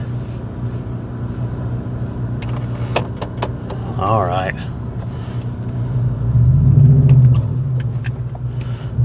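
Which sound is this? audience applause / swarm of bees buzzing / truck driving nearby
truck driving nearby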